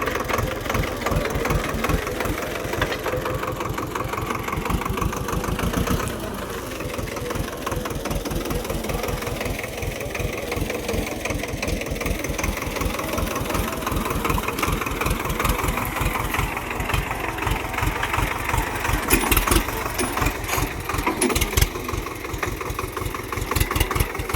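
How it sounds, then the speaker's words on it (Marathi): A tractor engine starts and runs with a steady, rapid knocking idle, loud and close, continuing unchanged throughout. "आता मी ट्रॅक्टर स्टार्ट करत आहे"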